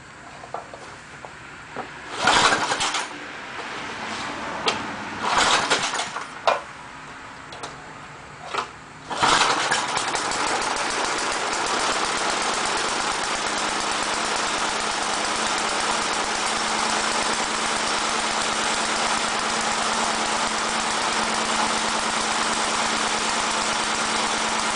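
A small engine, just fitted with a new gas tank, is cranked with several short sputtering pulls, then catches and settles into a steady, loud, rough idle that runs on continuously.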